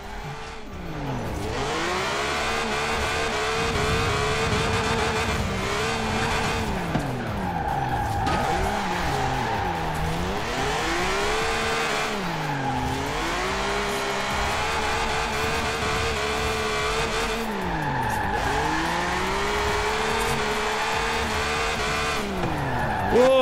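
BMW Z4 with a six-cylinder engine drifting in the racing game Forza Horizon 4: repeated long tire squeals rising and falling in sweeping arcs over a constant revving engine, several slides in a row at steady loudness.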